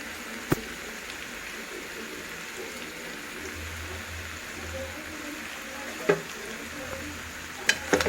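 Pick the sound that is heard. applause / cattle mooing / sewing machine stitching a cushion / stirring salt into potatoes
stirring salt into potatoes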